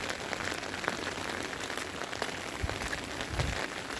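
Rain falls steadily around the Golden Pagoda in Arunachal Pradesh, a dense, even hiss of drops hitting surfaces, close and unbroken throughout.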